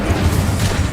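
An Incendio fire spell is cast in Hogwarts Legacy, a loud, close, rumbling whoosh of flame that fills the whole second without a break.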